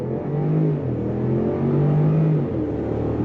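2023 Range Rover LWB P530 accelerating hard from a dead stop, a deep engine rumble rising in pitch through the gears, heard from inside the cabin with a short shift dip midway.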